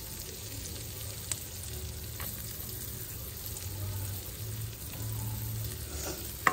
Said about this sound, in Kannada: ಗಾರ್ಲಿಕ್ನ ಸಾಟೆ ಮಾಡೋಣ.